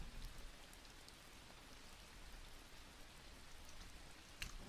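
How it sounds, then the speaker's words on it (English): Steady rain sound effect played as background ambience for a Diablo 4 livestream, a continuous broadband hiss of falling rain with no talk over it and one brief sharper patter near the end. "Let's get those rain sounds going."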